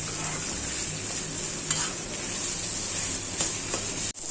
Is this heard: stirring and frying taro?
yes